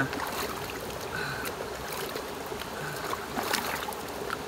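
Water runs and splashes steadily while someone rinses off under an outdoor nature shower set up in a food forest, a continuous close rushing stream.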